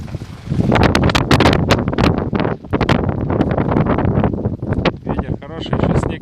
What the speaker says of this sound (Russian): Ветер хороший, еще снег идет.